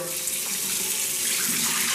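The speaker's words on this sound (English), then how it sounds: "I'm just going to give it one little more rinse." Running tap water splashes steadily over a freshly butchered, gutted chicken in a sink during a final rinse, close and continuous with no talk.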